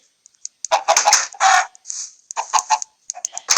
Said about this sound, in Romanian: Aici sunt găinile.